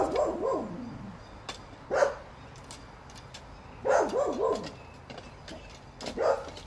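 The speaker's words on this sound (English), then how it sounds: "Calm down, dog." A dog barks in short separate bursts: a few yips at the start, then single barks around two, four and six seconds. It is moderately loud against a steady background hiss.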